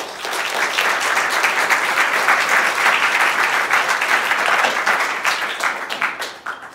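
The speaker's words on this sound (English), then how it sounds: "So let's give a round of applause." Audience applauding to open an evening lecture on populism, a dense, steady wash of clapping that fades toward the end, with no talking.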